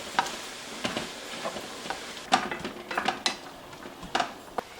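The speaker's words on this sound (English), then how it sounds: "Lisa's going to put in the roasted red pepper in the saute." Roasted red pepper dropped into a sauté pan, giving a low sizzle with scattered clicks and scrapes of stirring, moderately close and without talk.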